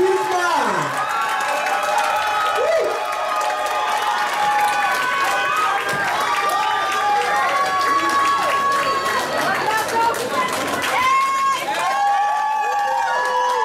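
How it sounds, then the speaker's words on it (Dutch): Crowd cheering and applauding at a women's boxing event after the result is announced, a steady loud wash of claps and shouts with chatter and calls throughout. "Applaus."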